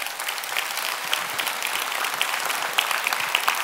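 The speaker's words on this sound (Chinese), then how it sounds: "掌声吧！" An audience at a company presentation breaks into loud, sustained applause, many hands clapping densely together with no gaps, close and filling the room.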